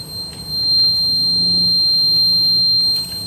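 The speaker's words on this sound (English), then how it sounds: "if you can hear it, there's a beep going on" A continuous high-pitched electronic warning beep from a Homelite-Jacobsen riding mower with a fried electrical fault holds steady throughout, with a low engine-like hum beneath it and no talking.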